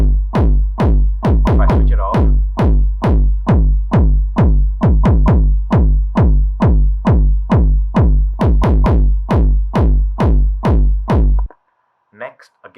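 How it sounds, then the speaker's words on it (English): A punchy electronic techno kick drum thumps in a steady, fast repeating pattern at 134 BPM, then cuts off; a voice speaks briefly at the end. "When I switch it on and I play the kick drum,"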